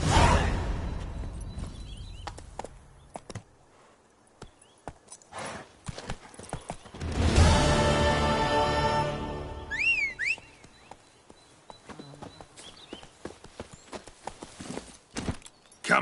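Hooves of Roach, the horse in Witcher 3, clip-clop in a steady rhythm, swell into a rushing gallop with a brief whinny, then settle back into lighter trotting steps near the end.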